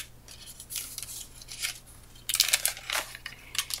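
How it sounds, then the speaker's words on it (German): Scissors snip through envelope paper in a handful of crisp cuts, quiet at first and then a louder run of close, crunchy snips near the end. "Ich habe nur das Papier, hätte ich vielleicht ein bisschen anders geschnitten."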